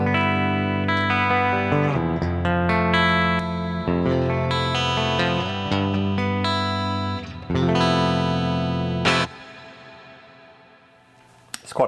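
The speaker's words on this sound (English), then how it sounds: "It's got a really long decay reverb on it." Electric guitar run through an MVave Tank-G preset with a very long decay reverb, chords and melodic notes played up close, then a final chord left to wash out slowly into a lingering tail.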